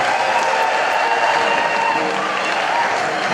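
Church congregation at an AIPCA gathering applauds for the archbishop, a dense wash of clapping that stays steady and fairly loud throughout with crowd murmur mixed in.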